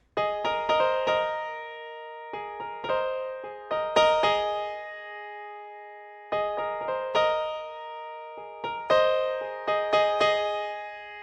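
Piano playing part of a song live: clear chords and short melodic runs in bursts, each note decaying, with a brief pause midway, moderately soft and alone with no voice.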